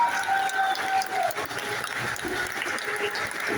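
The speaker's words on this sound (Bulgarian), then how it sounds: "Отново аплодисменти за младоженците" Applause for newlyweds at a Bulgarian wedding: steady, dense clapping from a crowd fills the whole stretch at even loudness, with faint background noise and a few tonal sounds mixed in.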